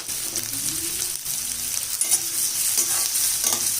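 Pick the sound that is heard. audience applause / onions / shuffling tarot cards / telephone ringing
onions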